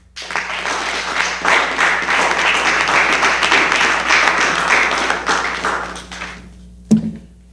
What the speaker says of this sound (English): Can I have another round of applause for such resounding hope